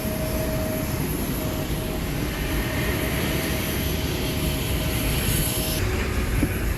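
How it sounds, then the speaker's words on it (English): Steady engine and air-conditioning roar fills a Lufthansa CityLine Bombardier CRJ-900 cabin during boarding, a constant loud broadband hum with a faint whine and occasional small knocks. "I finally made it to today's Bombardier CRJ-900."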